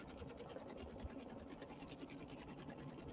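A sewing machine running a decorative triple-like stitch on an in-the-hoop ironing pad project hums with a fast, even mechanical chatter, faint and steady throughout.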